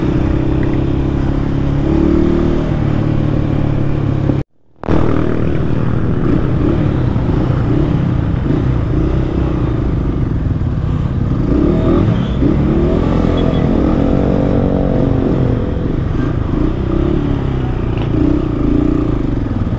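A KRY 200 motorcycle rides through traffic, its engine a loud, steady rumble with rising and falling revs and wind roar throughout, cut by a brief dropout near the start.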